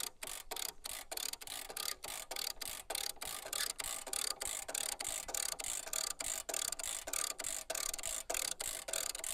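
A ratchet jack cranked on a Split-Fire log splitter gives rapid, regular metallic clicks, close and steady, with no voices.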